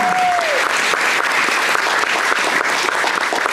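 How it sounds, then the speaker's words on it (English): Audience at a senior women's county pageant gives the contestants a round of applause, a loud steady wash of clapping close by that holds for the whole stretch, a brief tone fading at the start. "Let's give them a big round of applause."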